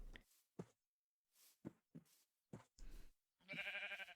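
Sheep bleating in the video game Minecraft, several short separate bleats spaced out with silent gaps between them, ending in a longer, louder wavering bleat, nearby and with no talking.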